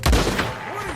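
A single sharp gunshot aimed at a sheep in Red Dead Redemption 2 bursts out close and loud, then decays with a short echo and a brief rising-falling tone.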